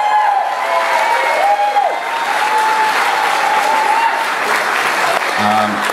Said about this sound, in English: the crew from AJ's Catering deserves a big round of applause also